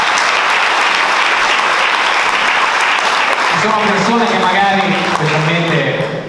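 An audience at a local political gathering in Porto Viro applauds loudly and steadily, with a voice speaking over the clapping in the second half.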